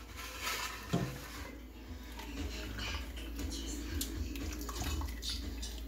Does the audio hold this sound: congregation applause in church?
no